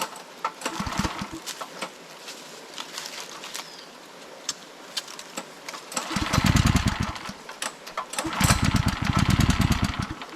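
Small petrol motor of a power sprayer used for watering plants near a hut by a river, sputtering unevenly and then surging loudly in two bursts of rapid chugging.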